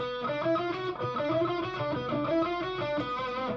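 A distorted electric guitar plays a fast, busy solo lick, continuous and loud with no voices.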